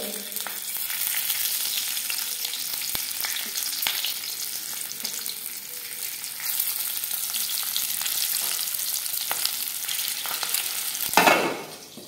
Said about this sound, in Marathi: तेल चांगलं गरम झालंय. आपण त्यात एक एक मिरची सोडूया.